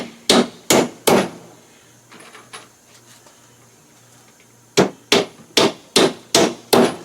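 Nails being driven with a hammer, close by: three quick strikes, a pause with faint shuffling, then six sharp, evenly paced blows.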